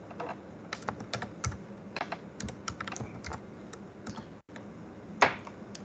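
Rapid close clicks of a computer keyboard as a Linux command is typed, irregular bursts of keystrokes with brief pauses and one louder final tap, no speech.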